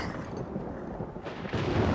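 A low, heavy rumble of thunder rolls continuously, swelling louder toward the end.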